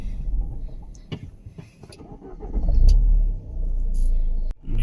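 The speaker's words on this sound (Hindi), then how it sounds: "गाड़ी हमारे को गियर में ही उतारनी पड़ेगी" A car in the Uttarakhand hills creeps down a very steep slope in gear, a low engine rumble that swells and holds with engine braking, scattered clicks and knocks over it, and no talking.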